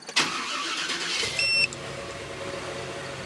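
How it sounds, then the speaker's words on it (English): A GMT400 truck engine cranks briefly with a whirring starter, then catches and settles into a steady idle; a short beep sounds during the crank. "So let's crank the engine."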